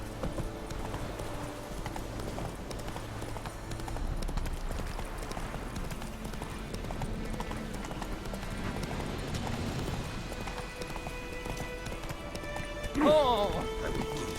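Steady clip-clop of a horse galloping in The Witcher 3 video game runs throughout, with someone talking over it and a brief higher whinny-like sound near the end.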